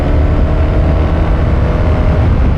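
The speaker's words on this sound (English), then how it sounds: "So I'm just going to give it again the full beans on the throttle" A 2024 BMW R1300 GS motorcycle with the ASA automatic gearbox runs at full throttle in sixth gear, its engine a loud, close, steady roar.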